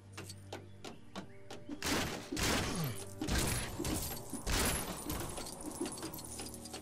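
A key jangling in Lego Jurassic World, with quick metallic clinks and rattles. It starts as a sparse ticking run, then turns into louder clustered jingles over game ambience, with no speech.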